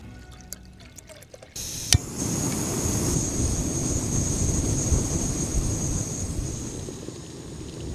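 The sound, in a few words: Jetboil camping stove firing up to boil water for coffee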